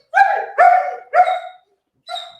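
A dog barks three times in quick succession, then once more after a short pause, loud and close with no talk over it.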